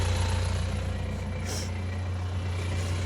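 A four-cylinder 3.2-litre diesel, a simple tractor-type engine, idles steadily at close range with a deep, even rumble and no other sounds over it.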